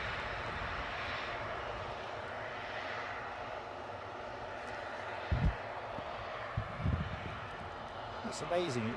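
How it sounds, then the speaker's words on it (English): A fixed-wing airplane's engine near Newcastle airport, a broad, steady roar heard from a distance under outdoor ambience, with a few brief thumps and a voice near the end. "Kind of wondering why this aircraft is holding."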